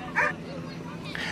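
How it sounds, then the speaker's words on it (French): A small female dog gives two short, high-pitched yips about a second apart, close by, over a low, steady background murmur. "Ah non, ça c'est mon chien, Pipoune."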